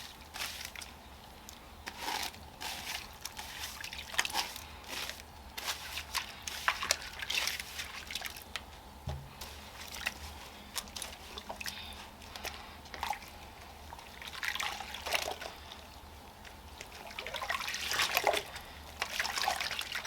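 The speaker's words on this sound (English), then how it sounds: "The shampoo is lathering up really good." Water trickles and drips steadily while a wig is washed with lathering shampoo, with soft squishy sloshes of suds being worked through the hair, close and continuous with no talking.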